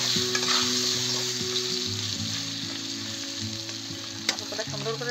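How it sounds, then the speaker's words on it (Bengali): Potatoes seasoned with a little salt and turmeric fry in hot oil, a steady close sizzle running throughout with no one talking. "এখন আলু কটা দিয়ে দেবো, আলু কটা লাল লাল করে ভেজে নেবো।"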